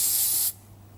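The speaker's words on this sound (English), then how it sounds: "I've got some cooling spray here. I'm just going to see if it goes off." A can of cooling spray releases one steady, close hiss for about half a second, then cuts off, leaving a faint low hum.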